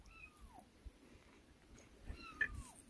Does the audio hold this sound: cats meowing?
yes